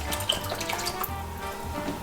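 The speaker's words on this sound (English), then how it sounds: "we're gonna add a little bit of chicken stock" Chicken stock poured into a pot of Italian sausage tortellini sauce, a steady close splashing liquid stream mixed with faint sizzling, no voices.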